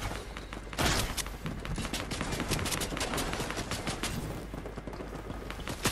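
Gunfire in the video game Fortnite rattles out in rapid, dense bursts of sharp shots, loud and nearly continuous for about six seconds, with some heavier hits at the start and near the end.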